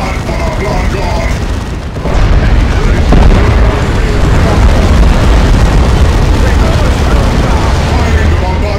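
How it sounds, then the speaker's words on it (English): Bombardment cannons fire in the Warhammer 40,000 game Dawn of War II – Retribution, loud, dense booming blasts rolling on continuously under battle din and shouting voices. "Firing the bombardment cannons!"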